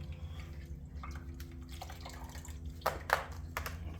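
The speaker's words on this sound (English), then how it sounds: "Then you want to put some cold water on it to cool it down." Cold water is poured onto hot, freshly brazed copper pipe, giving faint dripping and splashing with a couple of sharper hissing spurts over a low background hum.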